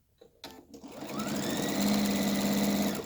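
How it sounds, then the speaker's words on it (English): A sewing machine starts with a few clicks, then stitches steadily along the edge of a chenille fabric bowl caddy, a close, rising motor whir with a rapid needle rhythm. "stitch again down that edge"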